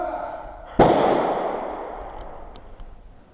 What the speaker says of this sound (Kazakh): Алар атысып отыр бізбен.